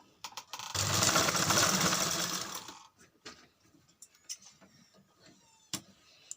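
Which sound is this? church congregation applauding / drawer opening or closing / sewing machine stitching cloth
sewing machine stitching cloth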